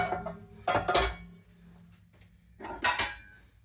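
Cast iron pie plate and Lodge skillets are handled and set down, giving a few heavy clanks and metallic clinks in bursts separated by quieter pauses.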